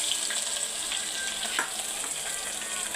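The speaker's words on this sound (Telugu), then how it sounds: "ఆవాలు జీలకర్ర ఎండుమిర్చి ఇవి బాగా వేయించుకున్నా ఇదిగోండి వేగిపోయాయి ఉల్లిపాయలు వేసేసుకున్నాం" Onions frying in oil with mustard seeds, cumin and dried red chillies for Andhra-style ulava kattu, giving a bright, steady sizzle and crackle up close, with faint stirring and no voices.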